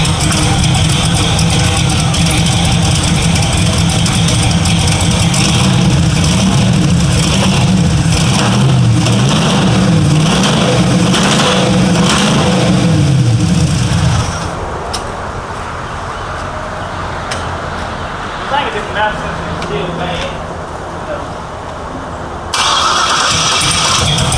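An LS-swapped car engine cranks and catches, running loud and steady close by for about fourteen seconds before dropping abruptly to a much quieter, uneven idle with a few faint knocks, then briefly swelling again near the end.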